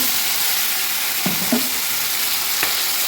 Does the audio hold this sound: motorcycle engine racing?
no